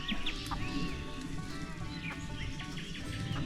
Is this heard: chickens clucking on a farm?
yes